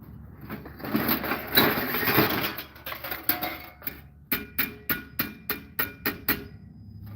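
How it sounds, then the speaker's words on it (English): A tiny hammer taps the strap of a front armor placard, first with scattered knocks under clatter, then a steady run of about nine sharp, evenly spaced metallic strikes, close and fairly loud. "Tiny hammer."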